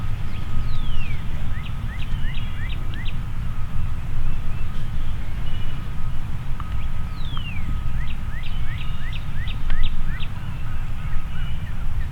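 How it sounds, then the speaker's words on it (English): Rapid rising wild turkey calls in repeated bursts over steady low rumble in Kentucky woods; a faint whistle-like tone runs throughout, with gobbles not clearly distinct. "we heard the gobblers across the valley talking like crazy"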